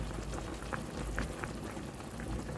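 Jamaican saltfish rundown with coconut and oil simmering on a stove set low, a steady close bubbling hiss with soft scattered pops throughout.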